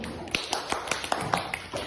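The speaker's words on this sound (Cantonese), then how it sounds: "我哋俾啲掌聲浩明先" A group of children clapping for a classmate in a classroom, brief quick claps of moderate loudness lasting under two seconds.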